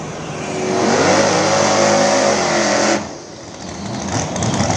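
A twin-turbo Ford Falcon drag car on small tyres launches hard at a drag strip, engine roaring loud and rising in pitch, then cutting off abruptly before a quieter rumble returns.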